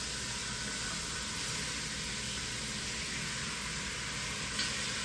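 Spicy short ribs sizzle steadily in a hot pan as they are flipped, a dense, continuous hiss holding at an even level throughout with no voices.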